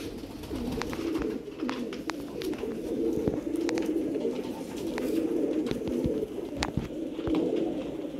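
Sialkoti pigeons coo in a steady low, throaty murmur that runs through the whole clip, with several birds overlapping up close, while occasional sharp clicks and light wing or cage noises sound in the background.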